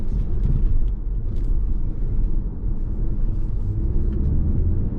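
Chery Tiggo 8 SUV, a 187-horsepower model, pulling out of a garage onto the street, heard from inside as a steady engine and road rumble with no talking.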